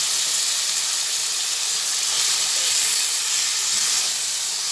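Potatoes, salt and spices frying together in a pan, a loud, steady sizzling hiss heard close up and alone, without pause.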